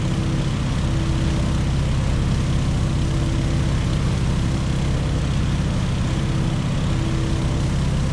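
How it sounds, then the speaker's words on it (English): Stearman open-cockpit biplane in the Microsoft Flight video game, its engine giving a steady loud droning roar with wind noise, unchanging and continuous throughout, with no speech. "here's where the steerman really shines. It's a nice, docile airplane with an open cockpit"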